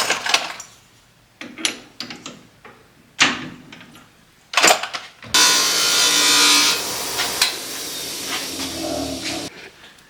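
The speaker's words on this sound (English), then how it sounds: "Cleaning it up on the burr wheel, looks like that." A metal part is ground clean on a burr wheel during a Bobcat M610 re-power, first several short scraping strokes, then a sustained loud hissing grind for about four seconds, close by.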